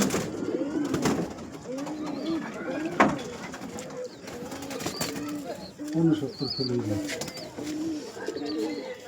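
A pigeon of a flying breed coos repeatedly in a home loft, its soft, throaty calls near and steady under someone talking, with a few brief rustles and flaps.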